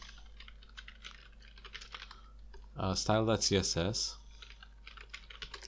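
Computer keyboard typing clicks away steadily while a web design project's files are set up, with a voice talking briefly over the middle of the keystrokes.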